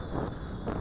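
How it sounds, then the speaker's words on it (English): Strong wind rushes steadily across the microphone outdoors while a Tarantula Spider 1505 drone is flown, a brief dense roar with slight swells. "This wind is pretty strong today."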